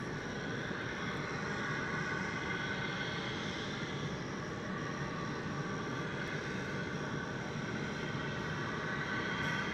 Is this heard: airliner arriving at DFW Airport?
yes